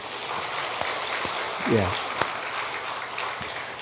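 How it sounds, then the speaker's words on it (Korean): A church congregation at a Korean Sunday service claps together in a steady, even wash of hands, with a voice briefly sounding over the applause midway. "우리 박수로 한번 격려합시다"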